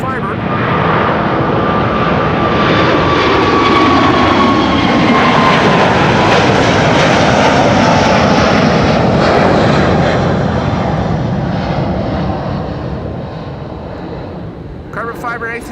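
A China Airlines Airbus A350 jet airliner departing from Schiphol's Kaagbaan runway roars loudly with a whining tone that slowly falls in pitch as it passes, then the roar fades toward the end.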